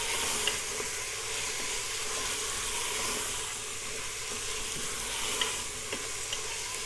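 A spoon stirs mutton and onion with ginger-garlic paste frying in a pot, a steady close sizzle and hiss with soft scraping strokes throughout, no voices.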